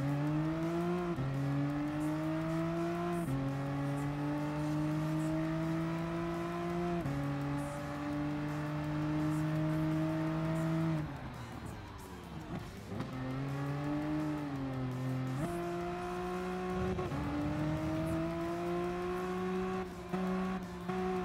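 Mitsubishi XR PHEV Evolution VGT race car in Gran Turismo Sport, a loud, steady high-pitched engine tone that climbs through the gears with brief dips at shifts, continuous and close, with no talking.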